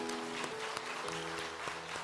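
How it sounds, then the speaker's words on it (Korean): A church congregation at a prayer meeting claps together in a brief, steady round of applause, heard fairly faintly with a humming background. "그런 면에서 축복해주는 박수 한번 힘차게 해주시기 바랍니다."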